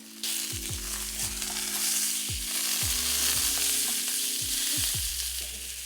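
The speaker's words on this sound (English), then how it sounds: "Now we're going to flip our steak over and let it sear for another 4 minutes." A steak sizzles steadily in a hot pan, a broad frying hiss running throughout, with several low thumps and clatters as it is flipped and moved; no talking.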